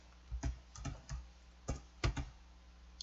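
Keys pressed one at a time on a computer keyboard during accounting software data entry, roughly eight soft, irregular clicks in quiet surroundings, with no talking.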